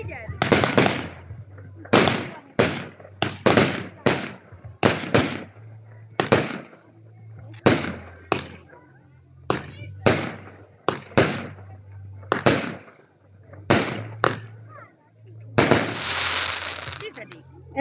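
A nine-shot consumer firework cake, code 11901, fires at an outdoor display in Egerág, sending out a series of sharp bangs and crackling bursts in irregular rhythm, ending in a longer crackle, while someone talks between shots.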